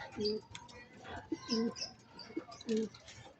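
Pigeons cooing at a loft, repeated low throaty coos in three clear bursts with some faint chirps and background voices, close and moderate in level.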